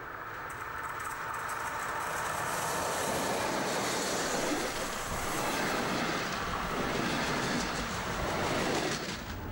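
DB class 143 electric locomotive hauling a train up the curving, climbing Höllentalbahn mountain line, a continuous loud rumble and rush of wheels and running gear with no pauses.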